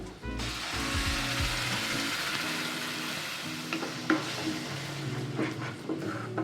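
Ground masala is stirred into a sizzling capsicum gravy in a pan, giving a steady scraping and frying texture with a few sharper clinks of the spoon against the pan, close and continuous with no talk.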